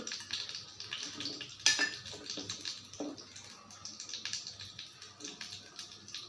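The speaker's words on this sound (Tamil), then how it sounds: "எண்ணெய் சூடாகட்டும் கொஞ்சமாக கடுகு உளுத்தம்பருப்பு" Mustard seeds and urad dal crackle in hot oil with scattered sharp pops and a steady fine sizzle, fairly faint and close, with no speech.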